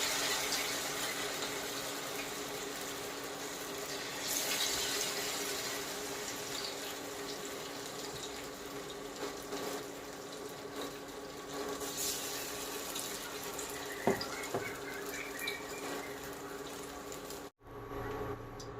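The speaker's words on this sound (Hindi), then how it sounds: "और बस इनको तलते जाना है, डीप फ्राई करना है।" Arbi leaf pakoras coated in besan batter deep frying in hot oil, giving a dense, steady hiss and sizzle that runs unbroken almost to the end before a sudden brief drop, with no talk.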